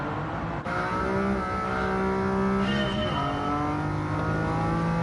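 A Lamborghini Countach historic supercar in Gran Turismo 7 holds a loud, continuous engine note that climbs and shifts pitch through gear changes as it accelerates around a race track.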